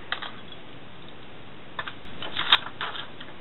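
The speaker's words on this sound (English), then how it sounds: "Out with some paper scissors," Paper scissors snip through paper while a rosette pouch bag is being made, a few soft crisp cuts in short bursts against a quiet room.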